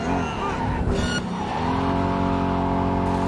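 A police car drives in the video game Cyberpunk, its engine revving and rising into a steady droning hum with a brief skid-like rasp near the start.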